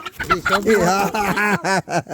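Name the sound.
rooster clucking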